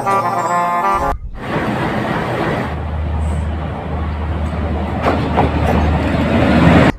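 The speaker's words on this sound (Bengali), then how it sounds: "আবারও শুরু হয়েছে মালবাহী ট্রেন চলাচল" A freight train running at Benapole railway station on the India–Bangladesh line, a steady rumbling roll with a low continuous drone and occasional clanks, loud and close, with no voices.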